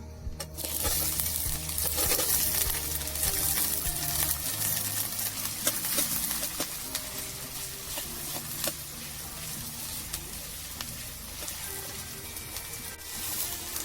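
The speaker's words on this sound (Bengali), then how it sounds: "কড়াই গরম হয়ে গেছে পেঁয়াজগুলো দিয়ে দিচ্ছি" Onions frying in hot oil in a wok give a steady, dense sizzle close by, with occasional soft clinks and stirring scrapes and no voices.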